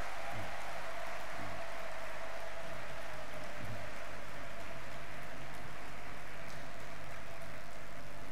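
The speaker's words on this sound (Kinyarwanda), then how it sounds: "Amashyi menshi bakristo bavandimwe." Congregation applauding during an Easter night mass in a church in Gikondo, a dense steady patter of many hands over low room rumble.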